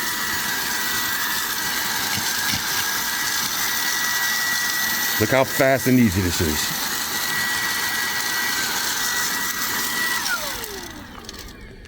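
A Brigii MX30 handheld vacuum cleaner runs steadily with a constant whine while picking up chunks, close and loud, with a brief rattle of debris in the middle before the motor winds down; a person talks over it.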